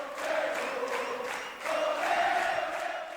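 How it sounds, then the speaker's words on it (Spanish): A theatre audience at a progressive rock concert at Teatro Cariola roars in a sustained ovation of cheering and applause, with a brief dip before the cheer swells again. "Vaya ovación"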